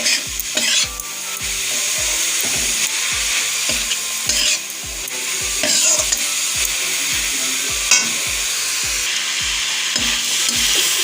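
Grated coconut stir-fried in a pan with ginger and cardamom, a steady close sizzle broken by regular scraping strokes of the spatula about twice a second, with no voices.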